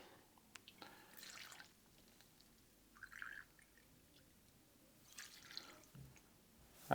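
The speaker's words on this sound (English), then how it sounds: "Just gonna pour the whole thing." Gin being poured into an iSi infuser, a soft trickle and drips of liquid heard in short faint bursts close by, with quiet gaps between pours.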